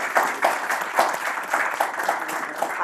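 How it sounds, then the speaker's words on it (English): Audience at a university insolvency-law class gives a round of applause, moderately loud, with a dense but uneven patter of clapping hands that continues throughout. "We should give a big round of applause to this."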